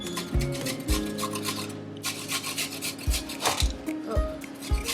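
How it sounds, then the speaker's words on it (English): A carrot is grated on a hand grater by a child in a home kitchen, giving repeated close rasping strokes in an uneven up-and-down rhythm, with a low hum underneath. "now we're gonna grate a carrot"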